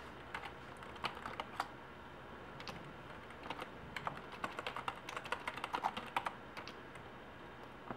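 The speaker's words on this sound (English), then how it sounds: "At this point, we're going to type adb" Keystrokes on a computer keyboard as a command is typed, irregular clusters of light clicks with short pauses, close and fairly quiet with no talking.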